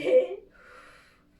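A short, soft exhale during a Pilates chair exercise, one brief breath at the start that fades into a faint airy hiss.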